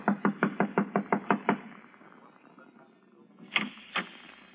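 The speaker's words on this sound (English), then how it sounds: "I'll knock on the door and try it again." Knocking on a door in an old radio drama: a quick run of about nine sharp, evenly spaced raps, a pause, then two louder knocks, all close and clear.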